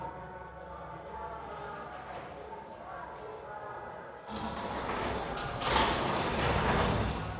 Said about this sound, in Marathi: पाठीमागची खिडकी लावून टाका, तिकडली